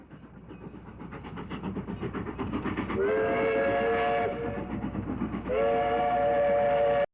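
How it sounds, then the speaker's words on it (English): A train rumbles steadily with rhythmic clatter building in loudness, while a steam whistle sounds twice, each a sustained tonal blast. "This is a train chugging and whatever other sounds a train makes."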